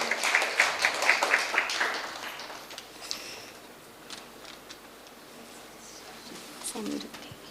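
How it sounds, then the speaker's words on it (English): An audience at an awards ceremony in Manipal applauds young performers. The brisk clapping lasts about two seconds, then fades into a quiet hall with a few faint stray sounds. "A big round of applause"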